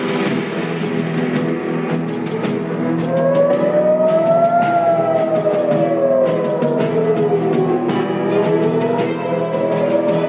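An air raid siren wails loudly, its rising and falling tone sweeping over a steady background, with sharp clicks scattered throughout.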